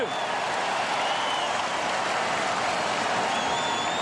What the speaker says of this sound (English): he's shooting this into the teeth of a Conseco Fieldhouse throng, doing everything it can to distract and annoy him